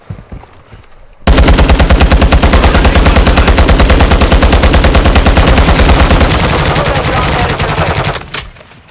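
Loud, sustained automatic gunfire in Call of Duty: Modern Warfare II, a dense rapid stream of shots bursting in after a quiet second and hammering on for about seven seconds before cutting off.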